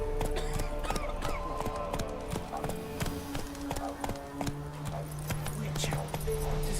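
The horse Roach trots in The Witcher 3 video game with a steady close clip-clop of hooves, while faint tack jingles and background game music or ambience play beneath it.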